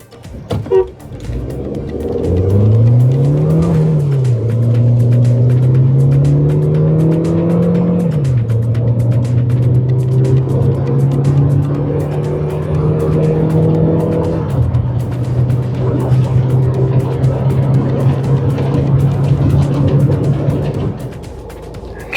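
Tata Sierra 1.5-litre petrol Hyperion and 1.5 diesel SUVs accelerating side by side in a comparison run: a loud rising engine drone climbing through gears with clear shifts, then a long steady high-revving tone before easing off.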